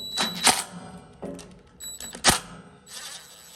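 Metallic clicks and clunks of a 4 mm tool backing bolts out of a bracket on a Freedom Stoves Independence PS21 pellet stove, a few sharp ticks and taps spaced irregularly, close and fairly quiet.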